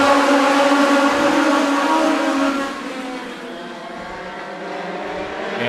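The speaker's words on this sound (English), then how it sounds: "They're all spicy, dicey, and ready to go racing here for the Legend Car main event." Legend cars race at Stockton 99 Speedway, their engines blending into a loud, steady high-pitched drone from the pack that dips slightly partway through.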